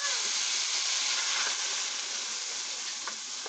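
Chopped vegetables and cocktail shrimp sizzle steadily in a hot pan, a dense continuous frying hiss with faint stirring scrapes, close and unbroken throughout.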